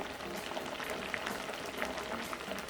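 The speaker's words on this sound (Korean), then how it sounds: "보글보글 끓어오르면 3분 더 끓여서" Peach flesh mixed with salt and vinegar bubbling in a pot, a soft, steady simmer with scattered popping bubbles, close and moderately quiet.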